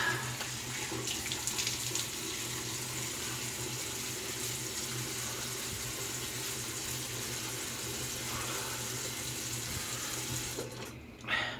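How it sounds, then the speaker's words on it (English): Water runs steadily from a tap into a sink at close range while the face is wetted for a wet shave, a continuous rushing stream that cuts off abruptly near the end. "So I'm gonna wet the face."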